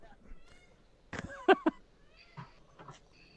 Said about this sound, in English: There's that fucking cat again.